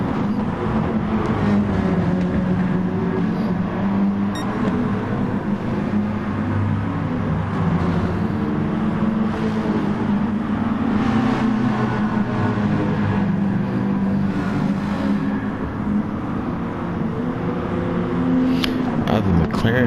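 Race car engines from a racing video game, a McLaren among them, drone steadily throughout at a loud, continuous level with shifting pitch as the cars accelerate, and a voice talks over the engine noise.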